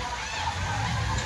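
Water splashing at a ride in the BluThunder water park in Bibinagar, Hyderabad: a steady, dense rush of churning water, close and continuous for the whole moment.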